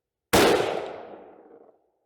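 A single sharp rifle shot fired while zeroing an Arken SH4 6-24x50 Gen2 scope, a loud close crack with a long decaying echo trailing off over about a second and a half.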